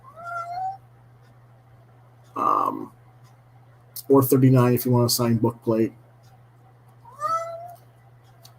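A pet cat meows several times, short plaintive cries spaced a few seconds apart, while a person talks between them over a steady low hum.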